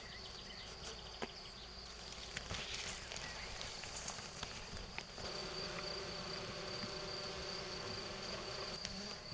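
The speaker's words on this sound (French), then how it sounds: "les abeilles sont douces, cool, tranquilles" Honeybees hum at an opened Layens hive, a steady dense buzz of many insects close by that holds throughout, with a few faint voices and small handling knocks underneath.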